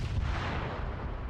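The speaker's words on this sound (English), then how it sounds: "The SPG-9 just sniped the Marid!" An SPG-9 recoilless rifle fires in a video game, a heavy booming blast with a rumbling, decaying tail filling the brief moment, loud and close.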